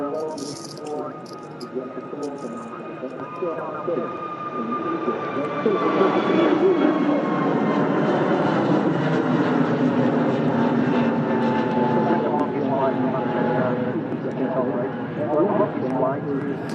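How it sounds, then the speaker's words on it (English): An EasyJet airliner taxis at Manchester Airport, its steady engine roar building and holding loud and broad for the whole stretch, with faint voices at the start. "As the EasyJet rolls to Sharm el-Sheikh"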